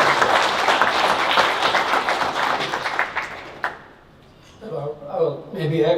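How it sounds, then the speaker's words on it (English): An indoor audience claps steadily for several seconds at a family computer laboratory dedication ceremony. The applause fades out, then a speaker resumes talking. "Please join me in a round of"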